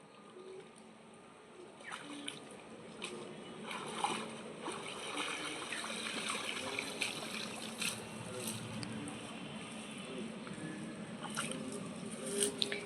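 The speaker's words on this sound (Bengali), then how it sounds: "দেখুন জালটাকে কিভাবে মাটির সঙ্গে টেনে টেনে আনছে" A fishing net dragged along the muddy bottom of a pond for prawns, giving a steady wash of sloshing, swishing water with scattered drips and splashes throughout, fairly close and continuous.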